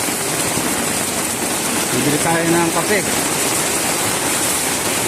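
Heavy rain pours steadily as a wide, even roar during a storm with street flooding, while someone speaks briefly over it.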